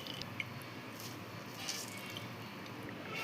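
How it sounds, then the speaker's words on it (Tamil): Coarsely ground amla (Indian gooseberry) pulp squeezed by hand to press out its juice with no water added, giving soft, wet squelching and faint dripping that stay quiet and continuous throughout. "ப்ளெயினாக இதோட ஜூஸை தான் புழிஞ்சு எடுக்க போகிறேன்"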